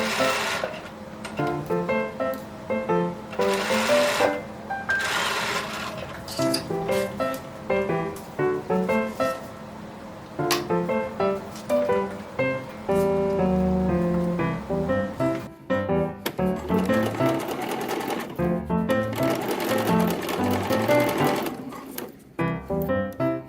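Domestic sewing machine stitching a short tack along the armhole seam of a baby garment, running in quick mechanical bursts with stops and starts, close and clear with no talk.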